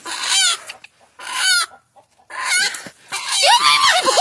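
A rooster and hens squawk and cackle in loud, frantic bursts during a hawk attack on the flock, with several sharp alarm calls separated by brief pauses, ending in a dense jumble of screeches.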